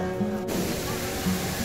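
Rushing water in the Polynesia area of PortAventura during Halloween, a broad, steady hiss like a waterfall or spray that swells up suddenly and continues, with voices faintly beneath.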